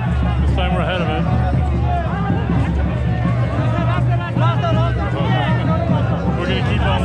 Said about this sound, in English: Massive crowd, massive crowd.